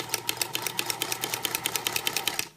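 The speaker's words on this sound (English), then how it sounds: "presser foot is down, pulling the needle down with the hand wheel thing, and we're sewing" Sewing machine stitching a knitted steek, a steady rapid run of even needle strokes heard close and clear for over two seconds before stopping abruptly.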